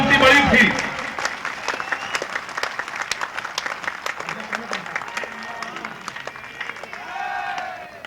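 An audience at a comedy poetry show claps in a loose, thinning patter after a burst at the start, while someone talks over the clapping and another voice joins near the end.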